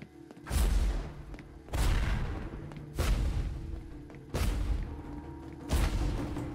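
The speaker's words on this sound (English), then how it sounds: "The explosions use a remote detonator." Cartoon explosions from the animated series Legend of Korra, set off by remote detonator. Five deep booming blasts land about once every second and a half, each a heavy thud that fades into a rumbling tail.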